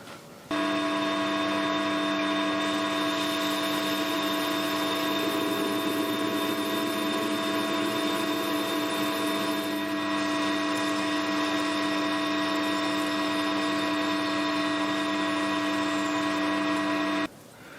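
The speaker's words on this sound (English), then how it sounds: "all that's left to do for the lathe work now is part that guy off" A metal lathe runs steadily while a parting tool cuts off a finished part, a loud, continuous machine hum with strong steady tones that starts abruptly and stops just as suddenly near the end.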